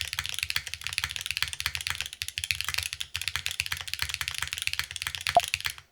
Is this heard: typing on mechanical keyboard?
yes